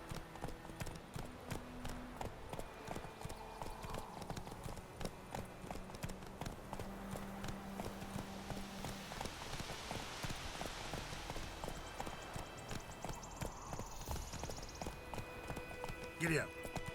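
A horse trotting in the video game The Witcher 3: Wild Hunt, with rapid rhythmic hoof clip-clops running steadily beneath ongoing spoken dialogue and a brief whinny near the end.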